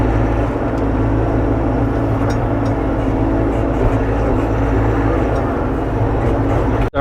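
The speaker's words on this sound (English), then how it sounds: "Started up the skid steer." A skid steer loader's engine runs steadily at a pond dig site in the woods, a continuous loud low rumble with no pauses, close by throughout.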